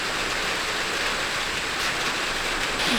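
Rain pours outside while a Ram 1500 truck gets new headlights fitted, giving a constant loud hiss of rainfall with no breaks or voices over it.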